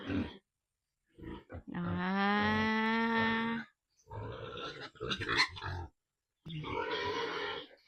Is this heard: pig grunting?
yes